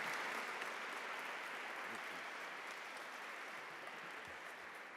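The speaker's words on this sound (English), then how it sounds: "Please give him a round of applause." A crowd applauds at a Ramadan iftar celebration as an assemblyman is welcomed to speak. The clapping is soft and distant but continuous and even from start to finish.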